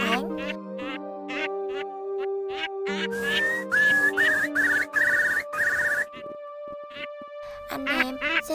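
Eurasian curlew calls, recorded for night netting during March migration, come as repeated whistled notes, rising bubbling trills and clear sustained tones, mixed with some quacking-like calls and layered in a dense, fairly loud sequence.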